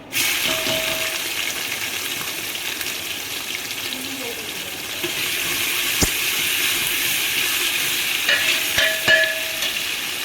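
Thinly sliced onions, two of them, frying in a pan for an aloo soyabean sabji, giving a steady broad sizzle throughout with a few brief clinks and a short tonal hum partway.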